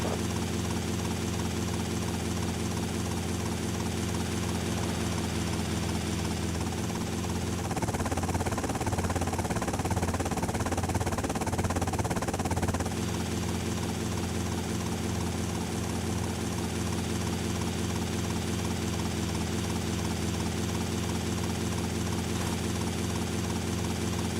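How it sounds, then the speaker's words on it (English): Police helicopter in Grand Theft Auto: Vice City, a steady rotor and engine drone that holds throughout and swells louder for a few seconds midway, with no talk over it. "Suspect lost in a helicopter."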